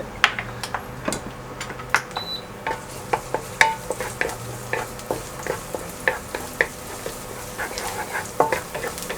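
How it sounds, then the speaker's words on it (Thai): Sliced garlic stir-frying in hot oil in a pan for a Thai minced pork with salted egg dish, with repeated sharp spatula scrapes and clicks at an irregular rhythm over a low, steady sizzle. "ก็ผัดจนกระเทียมหอมนะฮะ"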